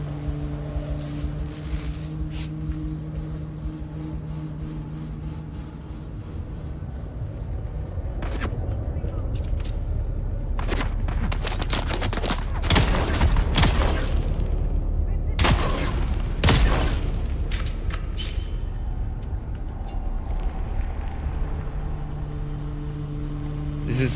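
Gunfire in the game Dune Awakening: bursts of rapid shots cluster mid-clip over a steady engine-like drone, with a voice talking at times.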